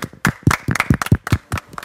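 A small group claps irregularly in a classroom-style gathering, sharp close hand claps in an uneven burst lasting under two seconds.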